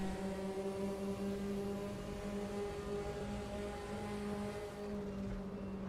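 Porsche 944 Turbo race car in the RaceRoom sim racing game, a steady droning engine note with strong low harmonics holding at constant revs, loud and continuous throughout with no talk.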